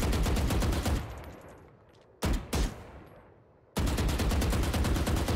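Rifle fire from the video game Valorant: a rapid burst lasting about a second, then two sharp single shots after a pause, then another sustained burst of automatic fire, loud and close.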